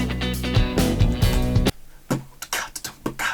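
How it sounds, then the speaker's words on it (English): The drum beat of a song in a live piano mix, starting under heavy sustained bass tones, then thinning to sparse punchy hits and a few sharp accents. "It's a really cool drum beat."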